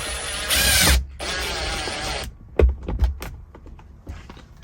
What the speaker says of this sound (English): using the black screws, we can screw this housing into position